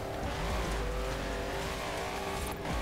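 A Mercedes G 6x6 drives in the video game Forza Horizon 4, its engine a continuous low drone with tire noise and a hint of skidding, steady and moderately loud with no talking over it.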